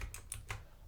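A computer keyboard with the F5 key struck repeatedly, three or four quick, faint taps in fast succession.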